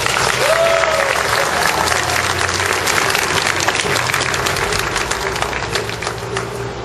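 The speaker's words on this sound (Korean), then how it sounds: "박수 한번 주시겠습니까?" A large crowd at a labor rally for subcontracted irregular workers applauds in a loud, steady, continuous roar of clapping and cheering that lasts throughout.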